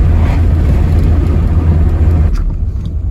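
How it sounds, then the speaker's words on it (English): A 1984 Dodge Daytona Turbo Z runs on gravel with a loud, dense engine and turbo boost roar that holds steady and close, then thins out toward the end. "Boost on the gravel. It almost sounds like power for a second."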